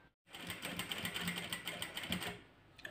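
A sewing machine stitches the tip of a fold on a blouse, a fast even mechanical whir of needle strokes running steadily for a couple of seconds after a brief start, close and clear.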